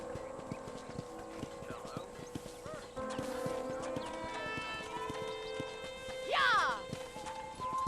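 Rhythmic clip-clop of horse hooves walking near a ranch corral in the video game Red Dead Redemption, steady and close, with a brief whinny and people talking over it.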